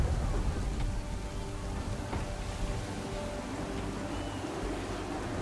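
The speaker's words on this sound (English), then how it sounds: "Perhaps the rain and the clouds?" Steady heavy rain pours down during a storm at sea in Assassin's Creed 3, a dense continuous hiss with faint low rumbles beneath, filling the whole stretch without any talk.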